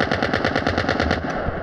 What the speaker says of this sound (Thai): เราจะมาดู การลั่นของกระสุนกันก่อนนะครับ